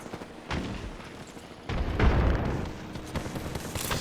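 A grenade blast in a video game: a sudden low boom near the middle, fading out over about a second, set among quieter scattered bursts of game noise.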